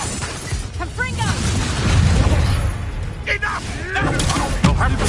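A Confringo blasting spell explodes in the video game Hogwarts Legacy, loud booming bursts and crackling pops amid combat noise, with voices shouting over the clash.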